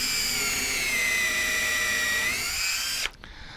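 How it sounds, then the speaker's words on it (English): A countersink drill bit bores into cherry wood, a loud steady high-pitched whine that holds for about three seconds, then cuts off abruptly as the bit stops, leaving a faint low hum. "Love to drill into cherry because if it's dull, we're going to get burn, we're going to get smoke."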